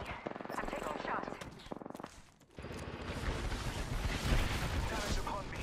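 Bursts of gunfire in Apex Legends, with clusters of shots broken by a short lull, then dense, continuous firing. The shots are moderately loud and mixed with other game sounds.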